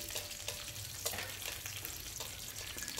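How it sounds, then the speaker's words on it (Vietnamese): Boiled garlic cloves fry in hot oil in a pan for stir-fried sesbania flowers, with a steady close sizzle and crackle and a few brief stirring clacks throughout. "tép tỏi nãy mình luộc nè mình cho hết vào luôn rồi mình phi"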